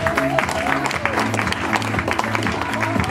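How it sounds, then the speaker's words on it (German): An audience claps for the first three riders called onto the podium at a cycling team presentation in Düren, the applause running steadily beneath a low background tone and scattered voices. "Applaus"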